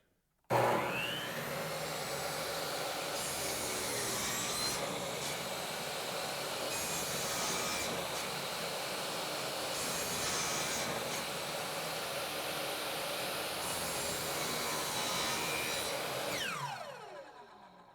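A continuous, loud power-saw whine runs steadily for about sixteen seconds while a blade dips repeatedly into a wooden door trim board, then stops abruptly at the end, with no talking.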